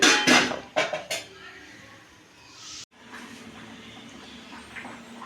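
Metal spoon scraping and clanking against a pot while chili and turmeric powder are stirred into a boiling vegetable sambar, a few sharp knocks up front, then a steady bubbling hiss.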